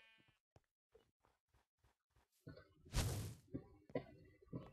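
A sheep in a video game bleats loudly once amid scattered soft clicks and thumps, with a few quieter shuffling sounds after.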